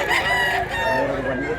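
A rooster crows once, close and loud, with a long drawn-out call filling the short moment, a faint voice murmuring underneath.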